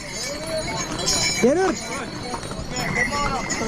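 Horse hooves clip-clopping close by amid a busy crowd at Kedarnath, with people talking over them and a brief whinny-like call.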